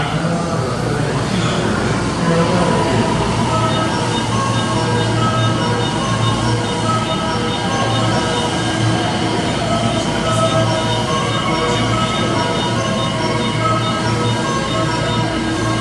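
A loud, continuous rumble of a JR 223 series 2000 Special Rapid train arriving at Shin-Osaka Station, with rail noise and faint high squeals throughout and no voices.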